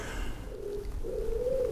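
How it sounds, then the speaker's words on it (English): Pigeons cooing outdoors near a workshop, a low soft coo rising and holding, then a second longer coo, steady and fairly close over faint background hum. "The pigeons are quite loud today."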